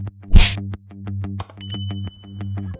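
An animated subscribe-bell icon sounds a bright ding effect: a short whoosh, then repeated ringing tonal pulses topped by a sharp high chime partway through.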